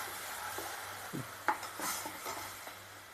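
Masala for millet (bajra) khichdi roasting in a pan. A few faint, brief scrapes and stirs sound against the metal over a low, soft sizzle.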